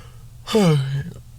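A single drawn-out human yawn, close and fairly loud, sliding downward in pitch for about half a second before trailing off.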